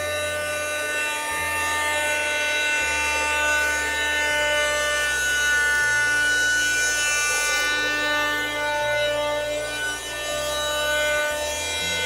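A rechargeable XG-668D air pump runs steadily, drawing the air out of a mattress with a loud, continuous motor whine and rushing airflow that holds level throughout, with no talking.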